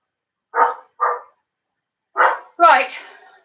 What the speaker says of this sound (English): the dog's barking at something